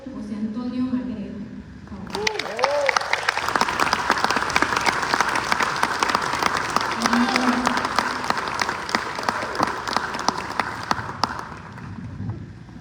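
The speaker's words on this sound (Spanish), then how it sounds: "Démosle un caluroso aplauso y bienvenida al gran maestro José Antonio Magredo" Warm applause from an audience at a state theatre gathering welcomes maestro José Antonio Magredo, dense clapping rising after a spoken introduction and holding steady for about ten seconds before tapering, with voices heard at the start.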